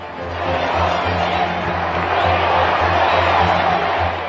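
A large crowd cheers and roars continuously at Fergie and Andrew's royal wedding, a broad, sustained wash of voices heard from a distance.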